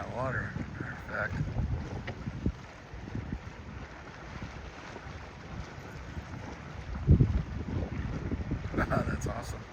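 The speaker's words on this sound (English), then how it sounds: "That's a great looking boat on that water" A Cole Skier ski boat running on Lake Havasu after nine years in storage, its steady motor rumble blended with wind buffeting and water noise, with a louder surge near the middle.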